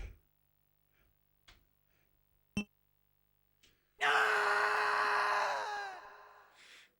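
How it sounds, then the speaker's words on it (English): Chris screams in the Resident Evil Code: Veronica video game, a loud, long, strained yell that bursts in after a few faint clicks and thuds, then fades away over about two seconds. "Just wanted to hear the Chris scream."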